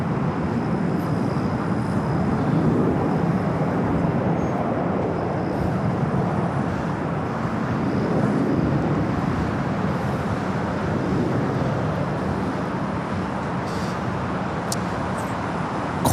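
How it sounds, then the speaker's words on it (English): An Airbus A380 on arrival at LAX gives a broad, steady roar, moderately distant, swelling slightly and holding level throughout with light background traffic hum. "this is our third A380 Super arrival here at LAX since 8 a.m. this morning"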